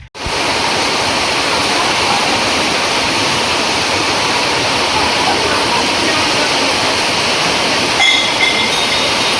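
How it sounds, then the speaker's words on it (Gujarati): Heavy rain pours down on farmland in a loud, dense, unbroken roar that lasts the whole stretch without a pause. "સાડા 3 વાગ્યાનો જોરદાર વરસાદ ચાલુ થયો ને અત્યારે થોડોક ધીરો પડ્યો છે."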